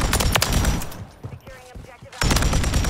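A Pulemyot 762 light machine gun fires in Modern Warfare 3, loud rapid bursts close up at the start and again at the end, with a quieter pause between while a person talks.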